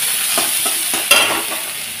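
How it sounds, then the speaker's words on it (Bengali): Chopped onion, garlic and green chilli frying in a pan while being stirred, with steady close sizzling and several distinct scraping strokes of the spoon, no voices. "দিয়ে দেবো রসুন কুচি, লঙ্কা কুচি। এটা একটু ভালোভাবে নেড়ে চেড়ে ভেজে নেব।"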